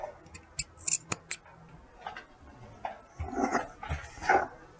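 Scissors snipping notches into the curved edges of fabric for a sleeveless dress, a quick series of sharp close clicks followed by softer rustling and cutting.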